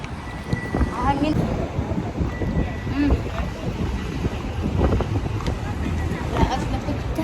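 Gusty wind buffets the microphone along the Corniche waterfront, a steady broadband rush with boat and water noise mixed in, alongside voices talking throughout.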